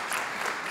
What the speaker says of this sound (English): And the applause goes for all of you.